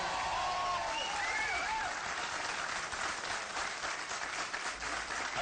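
A live audience claps and applauds for a singer, a dense, steady wash of applause that holds for the whole clip with a few faint voices mixed in.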